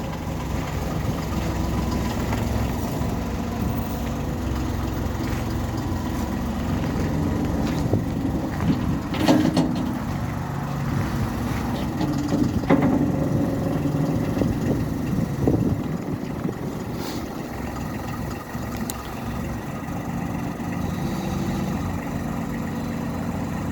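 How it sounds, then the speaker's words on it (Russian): A Bobcat loader's diesel engine runs steadily at idle for a long stretch, with a few brief clanks and knocks as the front attachment lifts; no voices. "Фронтальная установка поднимается у нас."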